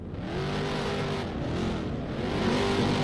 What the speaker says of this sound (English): Car is moving into the track.